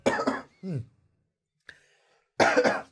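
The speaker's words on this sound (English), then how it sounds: "I need to clear my throat" A person clears their throat up close: a couple of rough, raspy bursts with brief pauses between them.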